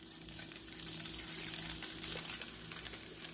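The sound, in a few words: leftover kimbap ingredients frying in a pan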